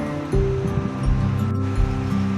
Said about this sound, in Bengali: ভালো করে তাতে আমি জল দিয়ে দেব।